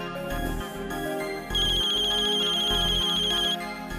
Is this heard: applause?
no